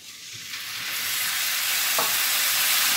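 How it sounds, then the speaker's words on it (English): Wine poured into risotto rice sizzling in a hot pan, a steady broad hiss that swells gradually and holds, with a brief splash partway through. "I think it's time to add the wine, so we add the wine"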